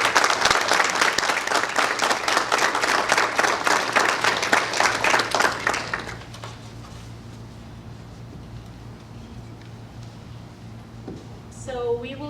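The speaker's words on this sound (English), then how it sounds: "Let's hear a really nice applause for them" A crowd at a ribbon cutting for the Sunlight Adult Day Health Center applauds the new business owners with loud, steady clapping for about six seconds, which then drops away to a quiet room with faint murmurs and a brief voice near the end.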